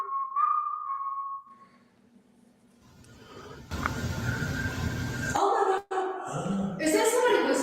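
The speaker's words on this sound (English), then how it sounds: "Is that somebody whistling?" Someone whistles outside at night, a few short whistled notes at moderate distance, followed by a stretch of broadband noise and louder sounds with people talking nearby.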